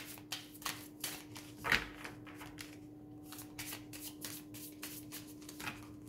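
Oracle cards are shuffled by hand in a quiet room, giving soft, close riffling bursts repeated in an uneven rhythm, with one sharper slap partway through and a faint steady hum underneath.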